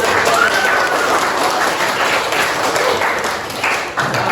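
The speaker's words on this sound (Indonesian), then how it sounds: "Tepuk tangan." Classroom applause after a student roleplay in a university history teaching class, loud continuous clapping from a group close by, sustained for several seconds before dipping slightly at the end.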